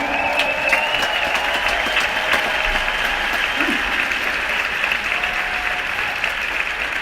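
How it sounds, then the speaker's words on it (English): Sustained applause from a convention audience, a dense steady clatter of clapping hands filling the hall. "Let's clap it up for the production people."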